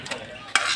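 Hotdog pieces and vegetables are stirred in a frying pan, making a brief scrape and a sudden burst of close sizzling as the mix is turned.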